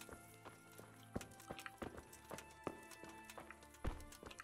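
Horse hooves clip-clop in an uneven walking rhythm in the game Kingdom Come: Deliverance, sharp close knocks over faint background music, sounding synthetic and game-like.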